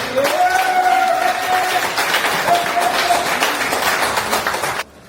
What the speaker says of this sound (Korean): 여러분들 감사의 박수 한번 해주십시오.